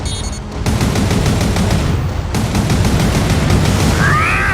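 Artillery fire in the PS3 game Gundam Crossfire, a loud, dense barrage of booms and rapid gunfire running continuously, with a brief whistling tone near the end.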